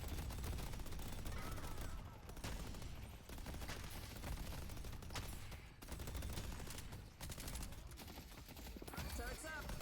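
Rapid, dense gunfire from the video game Deadlock rattles continuously in quick repeated bursts, fairly quiet overall, with a commentator's voice running over the shooting.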